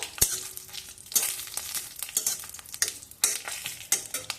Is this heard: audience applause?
no